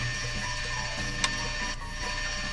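A drill bores holes into the metal valve body of an air blower held in a vise, giving a steady, whirring mechanical drone with faint ticking and one brief sharp click, close and continuous.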